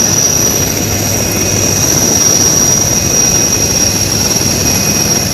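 A rescue helicopter during monsoon flood operations in Gujarat, sending out a steady, loud engine and rotor roar that continues without a break and fills the whole clip.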